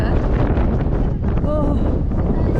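Strong seaside wind in Bari, Italy, buffeting the microphone in a constant loud roar, with a brief voice briefly audible in the middle.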